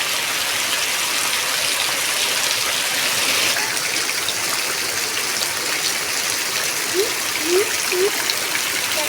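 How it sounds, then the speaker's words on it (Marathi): Heavy unseasonal rain pours down in Konkan under a dark afternoon sky, a constant loud, dense hiss of falling water, with a few faint bird chirps rising briefly toward the end. "फक्त पाऊसच तुम्हाला दाखवतो किती पडतो कोकणामध्ये आज"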